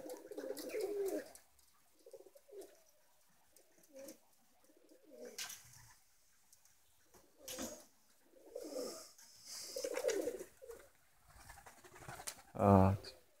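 Soft pigeon coos come in short bursts with quiet gaps between them, rising to one louder, closer call near the end.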